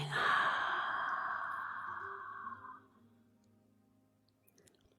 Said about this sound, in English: opening the mouth wide and exhaling